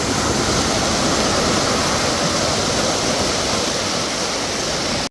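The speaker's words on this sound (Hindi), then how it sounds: "आवाज़ सुनिए गंगा जी का" Loud, constant rushing of the fast-flowing Ganges at Haridwar after cloudburst rains, a dense roar that holds steady without pause.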